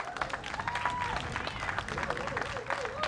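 An outdoor crowd at a park ribbon-cutting ceremony claps in a steady, moderately distant patter. A voice speaks over the applause.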